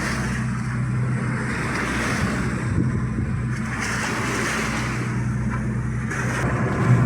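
Steady wash of wind and rough open-sea water around a fishing boat heading out after skipjack tuna, a constant broadband rush with a low engine drone, no voices.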